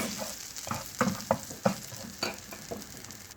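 Walnuts roasting in melted butter in a pan, a continuous close sizzle broken by several sharp scrapes and clacks as the nuts are stirred and tossed.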